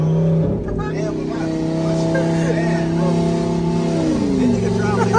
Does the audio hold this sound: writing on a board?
no